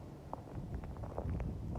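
Strong wind buffeting the microphone outdoors at the snowy Blue Knob Ski Resort in Pennsylvania, a low rumbling gusty roar with faint scattered knocks and crunches, close and steady.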